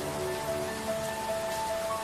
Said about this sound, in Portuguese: Então, começou a chover. A chuva não parou por dias e dias.